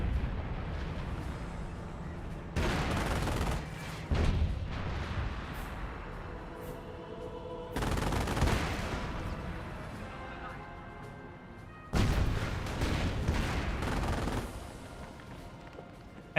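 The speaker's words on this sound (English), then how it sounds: "I think that's decoy barrage" Decoy artillery barrage in Company of Heroes 1 thunders in repeated heavy booms at irregular intervals, each followed by rumbling decay, under continuous casting talk.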